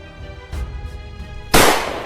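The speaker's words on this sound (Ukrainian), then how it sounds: "Хтось стріляє." A few sharp gunshots ring out in Minecraft, two or three muffled bangs followed by one loud close blast with a lingering tail.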